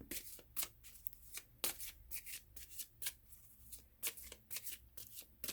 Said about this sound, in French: je vais piger une réponse avec les cartes